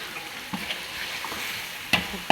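Spices including powdered cinnamon sizzle in a hot pan while being stirred, a soft continuous frying hiss broken by a few sharp scraping strokes of the spatula near the end.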